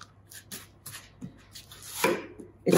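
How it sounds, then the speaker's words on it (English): Scone dough being turned and kneaded by hand on a floured board, a series of soft thumps and rubbing pushes at an uneven rhythm, close and fairly quiet. "we get the dough, we turn it and we knead it"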